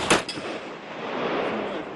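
At a sport shooting range in Cape Town, a single sharp gunshot cracks near the start, followed by a fainter second report and a lingering echo over steady outdoor noise.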